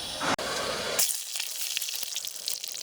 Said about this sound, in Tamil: நல்லா சூடாகிட்டு இப்போ வரமிளகா போட்டுக்கலாம்